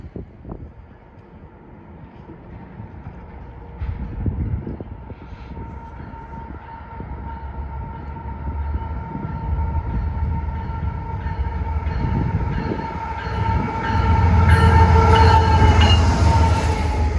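A heavy freight train rumbles past close by on the former Lehigh Valley Railroad main line in Union, New Jersey, its engine droning and wheels clattering and squealing as the noise steadily builds louder.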